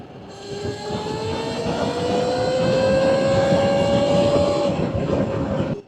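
Talaria electric dirt bike with a Nucular P24F controller is ridden through trails, its motor whine rising in pitch as it speeds up and then easing off, over steady wind and tire rumble.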